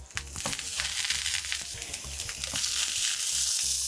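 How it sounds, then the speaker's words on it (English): Eggplant halves searing cut side down in a hot pan, a loud continuous sizzle with crackling pops that swells slightly as more pieces go in. "And now we're gonna work in batches, searing the inside of these"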